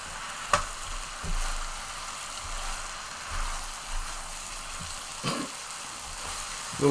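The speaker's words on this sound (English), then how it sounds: "A little aggressive on the" Chicken chow mein noodles stir-fry in a hot pan, a steady soft sizzle with occasional scrapes and tosses of the noodles.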